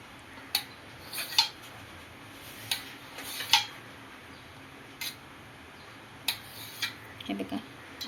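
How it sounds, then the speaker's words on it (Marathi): A knife cuts paneer on a board in a home kitchen, a scattered series of sharp close taps and clicks spaced irregularly, faint room hum beneath. "पनीर कट करून घेते मी पहिले"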